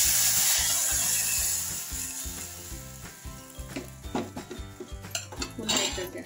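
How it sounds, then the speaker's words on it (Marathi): Fenugreek leaves for a thin methi bhaji go into a pan with chilli powder and turmeric. A soft hiss gives way to repeated metallic clinks and scrapes of a spoon stirring against the pan, close and busy. "मिरची पावडर आणि त्याच्यात आता आपण भाजी टाकून घेऊ।"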